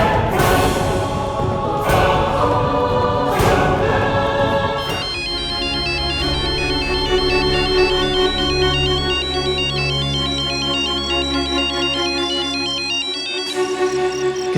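A phone ringtone plays loudly and continuously, a bright repeating melody after a few opening tones, with no talking.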